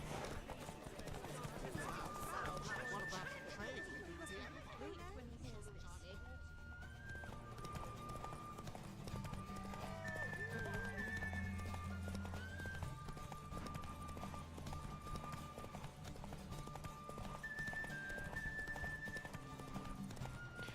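Horse hooves clip-clop at a steady gallop rhythm in Witcher 3, running continuously beneath game music and a talking voice, with occasional whinnies.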